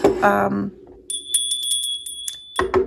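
A small bell gives a bright, high ring that sustains for about a second and a half, with a voice speaking just before and after it.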